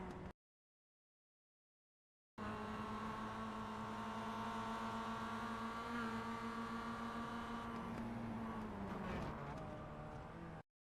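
Mazda MX-5 race car engine in iRacing on the Navarra road oval, droning steadily at high revs, then dipping and wavering as the driver briefly lifts off the throttle before it cuts out.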